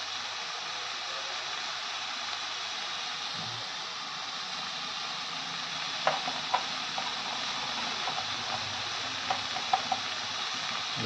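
Spices frying and being stirred in a pan for fish head curry, a steady broad sizzle with a few sharp scrapes or clinks of the spoon near the end.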